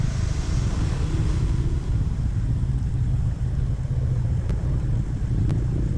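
A Royal Enfield Meteor 350 cruiser motorcycle ridden through town, its steady low engine rumble and wind noise continuous and close throughout, with no speech.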